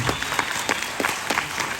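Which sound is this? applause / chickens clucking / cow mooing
applause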